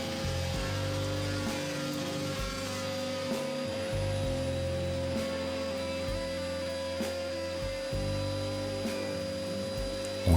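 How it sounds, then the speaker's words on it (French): Wood is machine-planed down to 15 mm thickness for an electric guitar neck joint: a steady, droning motor with a constant hum and recurring dips as the cut varies, with no speech. "Et on va évidemment raboter tout ça pour descendre à 15 mm."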